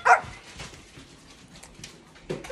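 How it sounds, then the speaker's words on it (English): A chatty pet dog barks sharply once up close, then whines and whimpers softly in short bursts, ending with another brief bark indoors. "Max is a very chatty dog"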